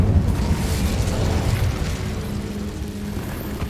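A fire spell cast in a PS5 wizarding video game, a loud rumbling whoosh of flames with a low booming burst that gradually tapers off, no voices.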